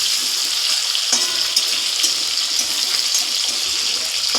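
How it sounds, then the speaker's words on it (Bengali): Malabar spinach stems and potato pieces fry in hot oil, a loud, steady hiss and crackle with faint clicks close by, no voices. "এই ডাঁটাটা, পুঁই ডাঁটাটা আর আলুটা ভালোভাবে ভেজে নিতে হবে।"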